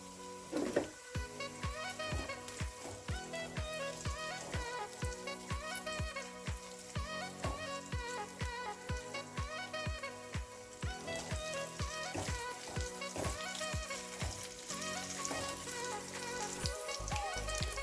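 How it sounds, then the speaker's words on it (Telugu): Green chillies and ginger pieces fry in oil, a close, crackling sizzle full of rapid pops and spits. The sound runs steadily throughout at low volume, with no talk. "పచ్చిమిర్చి అల్లం ముక్కలు వేగిపోయాయి"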